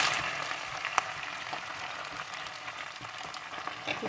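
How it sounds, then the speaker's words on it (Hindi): Quince pieces frying in hot oil for pickle, a steady close hiss and crackle of sizzling with occasional faint pops and a small clink. "इस फल को हम 2 से 3 मिनट तक इसमें सौते कर लेंगे।"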